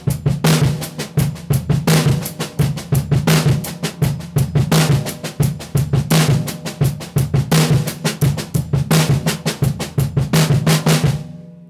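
A paradiddle drum groove on a kit, with bass drum kicks and steady hi-hat eighth notes under the hand pattern, played at a brisk, even tempo and recorded close and loud with no talking.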